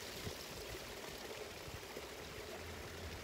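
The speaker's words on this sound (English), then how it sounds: "There's something about the sound of water that inspires" Water flows steadily in a continuous rushing stream, a soft, even wash of sound with no voices.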